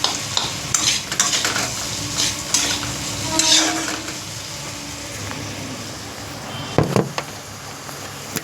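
Fish frying crisp in a hot pan for a spicy fish jhal, with a steady close sizzle broken by scraping stirs and metal utensil clinks, and a sharper clatter near the end.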